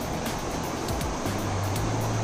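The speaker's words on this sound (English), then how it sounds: "We've got like a little waterfall here." A small waterfall on the Dearborn River makes a steady, close rushing roar of churning water that fills the whole stretch without a break.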